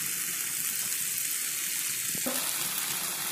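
Hakka noodles with salt get tossed and stirred in a hot pan, a steady close sizzle with a short scraping stir near the end and no talking.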